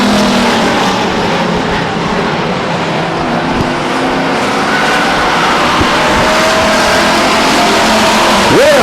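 Stock race cars roar around the oval at Stockton 99 Speedway, a loud, continuous engine drone with engines revving and rising in pitch, a faint announcer's voice running underneath.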